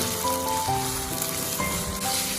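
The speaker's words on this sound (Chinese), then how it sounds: "加入适量的食用油，油温4成热的时候，把肉末倒下去炒香。" Minced pork sizzles and fries in hot oil in a wok over medium-low heat, a steady dense crackle heard close with no talking.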